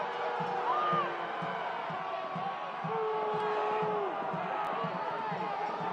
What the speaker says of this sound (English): Crowd is letting him hear it.